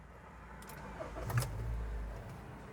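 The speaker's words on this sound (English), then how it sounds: "I need to start the engine first." A 2014 car with automatic transmission cranks briefly and catches, settling into a low, steady idle hum, heard close but fairly quiet.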